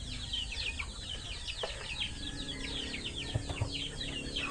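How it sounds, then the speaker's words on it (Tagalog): A group of chickens clucks and chatters all at once in a busy, continuous flock sound, with a few soft thumps underneath. "nagpapakain ng mga alagang manok"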